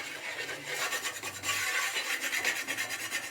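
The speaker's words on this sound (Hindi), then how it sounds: "ये जला हुआ दिया है, इसको इस तरह से तवे पर ऐसे रगड़ेंगे" Burnt clay lamp scraped back and forth across a hot iron griddle, a steady gritty rasping in quick repeated strokes, close and fairly loud, with no talking.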